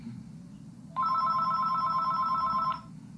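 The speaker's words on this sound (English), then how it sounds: "I think it's the phone." An electronic telephone rings in one continuous trilling burst of nearly two seconds, loud and close against a low background hum, then stops.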